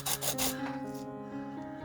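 Light sanding on a wooden part, a dry rasping rub that starts in strong, closely spaced strokes and settles into a steadier, quieter scrape with a faint tonal hum beneath.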